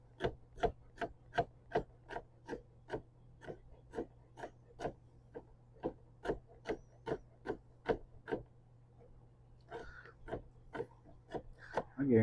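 Peppers being chopped on a cutting board: a quick, steady run of sharp knife taps, close but soft, with a short pause and a few scraping sounds before the chopping resumes near the end.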